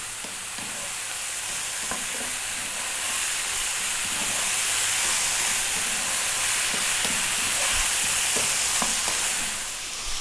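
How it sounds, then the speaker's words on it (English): Fried rice frying hard on high heat in a pan, a steady dense sizzle with faint stirring scrapes running close and unbroken for about ten seconds, no talking. "Okay, stay on the high heat. We're going to fry this now for 4 to 5 minutes."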